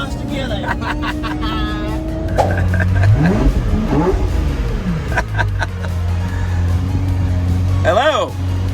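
A powerful Lamborghini V12 sports car engine revs and roars nearby in first gear, rising and falling in pitch as it accelerates, with a deep rumble underneath and voices over it.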